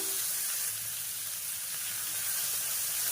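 Tomatoes with salt sizzle steadily in a hot pan as they are sautéed, a soft continuous frying hiss at low volume with no voices over it.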